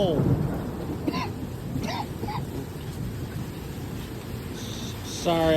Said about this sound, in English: Sorry, I've got a little cough there.